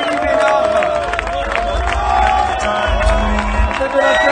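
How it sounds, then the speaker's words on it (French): At the finish line of the 105 km VVX Volvic ultra trail in 2019, spectators clap and cheer for an arriving runner, with lively crowd noise and a voice talking over the applause. "on peut applaudir bien fort"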